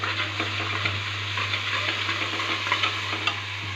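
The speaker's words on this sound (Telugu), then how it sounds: "అల్లం తెల్లగడ్డ మసాలా వేసిన తర్వాత ఒక 2 నిమిషాలు ఇలా వేయించుకుంటే మంచి వాసన వస్తుంది" Onions fry with ginger-garlic masala and turmeric, a close hiss and crackle broken by scraping stirs of a spoon against the pan, with no voices.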